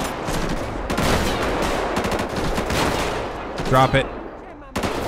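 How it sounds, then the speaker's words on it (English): Rapid bursts of gunfire ring out in a GTA 5 police shootout during a bank heist, sharp cracks in quick succession, with someone shouting briefly between the shots. "Who's shooting at me and from where?"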